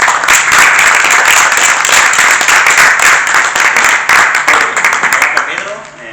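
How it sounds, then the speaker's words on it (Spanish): An audience at a lecture on the Italian master Fiore Furlano applauds a speaker, Jacopo, with dense, steady clapping that carries for several seconds before fading out. "un aplauso a Jacopo"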